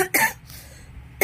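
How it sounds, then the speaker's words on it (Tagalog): Two harsh coughs from a person sick with a fever and sore throat, close and loud, separated by about a second of quiet room noise. "Sakit sa lalamunan kapag inuubo"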